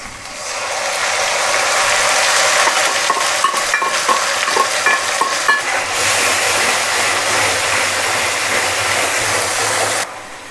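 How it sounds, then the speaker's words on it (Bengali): Onions frying in a pan hiss and sizzle loudly as spice paste goes in, with rapid clattering stirring that settles into a steadier sizzle before cutting off near the end; no voices. "ওই যে পেঁয়াজটা একটু ভাজা হয়ে আইছে তো এখন এটার মধ্যে দিয়ে দেবো মশলার যে পেস্টটা বানাইছিলাম"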